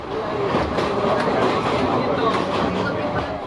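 Steady rumble and rhythmic clatter of wheels on rails inside a moving passenger train carriage in Sri Lanka, continuous and enveloping, with faint voices blended into the din.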